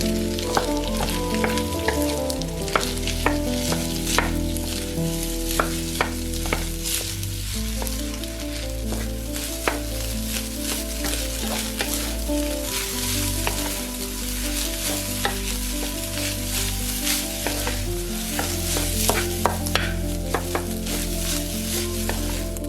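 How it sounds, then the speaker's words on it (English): Rice mixture for Yang Chow fried rice is stir-fried in a hot pan, with loud, continuous sizzling and repeated sharp scrapes and clanks of the spatula breaking up clumps, over steady background music. "Stir fry, breaking up any clumps until the rice is heated through and the grains are separate."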